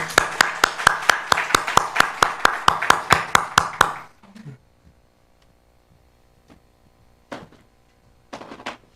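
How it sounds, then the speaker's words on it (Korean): A church congregation claps in a quick, steady rhythm of about a dozen sharp, loud claps, then stops abruptly, leaving a quiet hall with a faint hum and a couple of brief, scattered noises. "우리 박수 한번 쳐드릴까요?"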